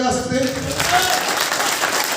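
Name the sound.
audience applause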